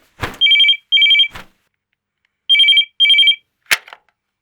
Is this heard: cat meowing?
no